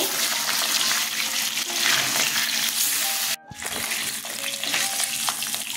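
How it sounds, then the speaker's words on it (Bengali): Pieces of katla fish fry in hot oil in a pan, a steady loud crackling sizzle that drops out for a moment before resuming without any talk. "দেখুন মাছটা দিয়ে দিয়েছি। আমি কিন্তু মাছটা কড়া করে ভাজবো না"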